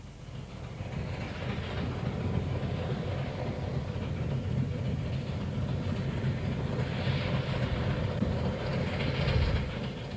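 A special mountain train on a rack railway climbing to its summit in cloud and rain, heard as a steady, continuous low rumble of wheels and carriages rolling on the track, close and even throughout.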